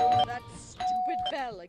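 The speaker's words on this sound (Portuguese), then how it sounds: "Toquei a campainha várias vezes." A doorbell rings twice in the Scary Teacher video game, each a clear, close electronic ding-dong chime, separated by a short gap, with a voice speaking faintly beneath.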